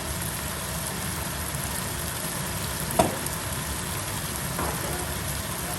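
Shrimp stir-fried with holy basil, oyster sauce and sugar sizzles steadily in a hot pan, a continuous close hiss broken by one brief utensil clack midway.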